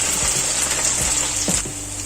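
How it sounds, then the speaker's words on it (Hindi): Ginger and garlic frying in oil for chicken masala, a loud steady sizzle with a few soft clinks and stirring knocks, no talking. "तो इसको भी थोड़ा फ्राई कर लें हम लोग"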